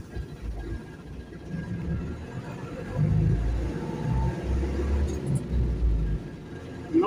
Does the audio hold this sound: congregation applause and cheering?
no